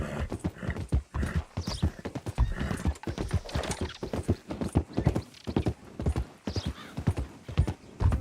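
Rhythmic clip-clop of horse hooves galloping in Red Dead Redemption II, with a horse neighing and whinnying partway through; the hoofbeats are loud and close, with dense, steady strikes running throughout.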